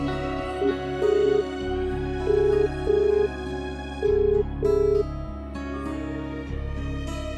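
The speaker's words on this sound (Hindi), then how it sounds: "मैं शनाया को फोन लगाता हूं" A phone ringback tone repeats in short beeping pulses over a steady background music bed, moderately quiet.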